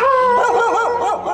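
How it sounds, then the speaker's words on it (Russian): Street dogs in Delhi bark and yelp close by, their voices rising into wavering, howl-like whines that continue without a break for over a second. "Начали все лаять"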